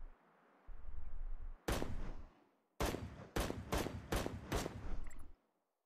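Gunfire in the online shooter Cyber Hunter: a sharp single shot, then a quick burst of five or six loud cracks in rapid succession, close and dominant, with no voices.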